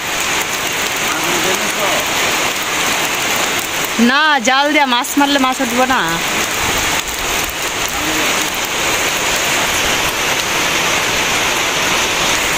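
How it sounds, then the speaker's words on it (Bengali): Steady heavy rain hisses throughout, with a person speaking briefly in the middle over the downpour. "এই যে এখন বৃষ্টি হইতেছে"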